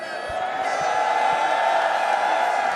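Large live crowd at the Evo 2XKO fighting-game tournament top 8, a sustained roar of cheering and whooping filling the hall, loud and steady throughout.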